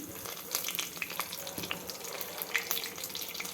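Urad dal and chana dal roast in a pan with a soft, steady sizzle and frequent light stirring scrapes, moderately close and with no talking.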